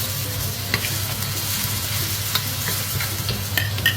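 Pickled vegetables, chili bean paste and spice powder stir-fried in a hot wok, a loud continuous sizzle with scraping spatula strokes close by and no talking.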